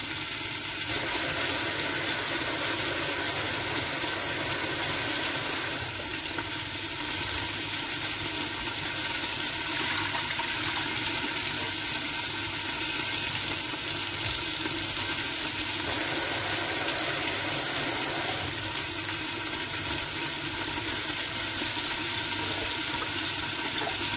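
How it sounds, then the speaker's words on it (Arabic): Water pours steadily into a cooking pot for cooking rice, a loud continuous rushing splash lasting a long stretch, with no voices. "وهلا بدنا نضيف شوية مي للطنجرة"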